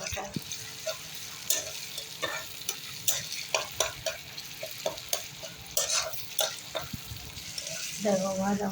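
Tomato and onion frying in a pan, a steady crackling sizzle broken by repeated scrapes and stirs of a utensil, close and fairly quiet, with no talk.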